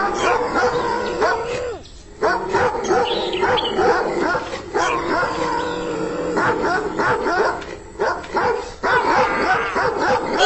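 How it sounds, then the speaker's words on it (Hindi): A possessed dog in a horror story barks, yips and whimpers almost continuously, close and loud, with growling tones and brief pauses, mixed with voices. "ये तो कोई कुत्ता लगता है।"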